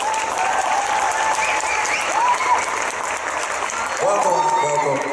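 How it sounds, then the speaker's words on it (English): A crowd at the Dutch Comic Con in Utrecht bursts into sustained applause and cheering to welcome actor Manu Bennett on stage, loud and steady throughout, with a host's voice rising over it near the end. "I would like a big applause"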